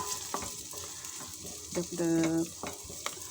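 Onion and garlic sautéing in a pan give a steady sizzle with a few clinks or scrapes, and a short tonal whine rises near the middle before the frying carries on alone.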